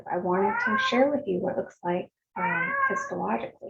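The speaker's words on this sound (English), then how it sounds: "that is my cat Newton in the background" A pet cat named Newton meows in the background of a home office, clearly audible beneath a person speaking steadily in the foreground.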